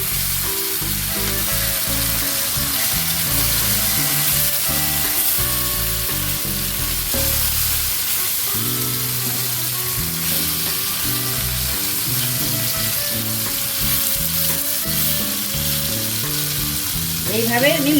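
Whole fish with green chillies, coated in mustard, go one by one into a pan of hot oil and fry with a steady, dense sizzle that swells and crackles as each piece lands, close and loud with no talk.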